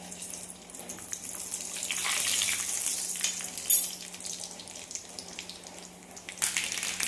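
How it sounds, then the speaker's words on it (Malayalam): Mustard seeds spluttering in hot coconut oil for a Kerala sambar tempering, a steady close crackling sizzle with bright popping that swells mid-way and bursts sharply around the middle, with no talking. "കടുക് പൊട്ടി വന്നിട്ടുണ്ട്"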